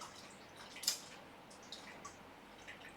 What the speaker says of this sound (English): step 1, press all the water out.